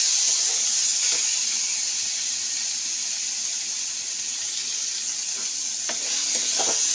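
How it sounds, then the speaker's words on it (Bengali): A soaked ingredient frying in a pan for vegetable upma, a steady bright sizzle hissing continuously close up, with a few faint clinks of stirring. "দিয়ে এটাকে ভালো করে ভেজে নেব"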